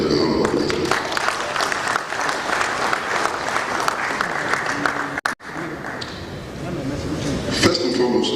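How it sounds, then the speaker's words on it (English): Sustained audience applause fills a national convention hall, dense and steady for several seconds before a brief dropout, then swelling again with some voices mixed in. "give the national president a round of applause"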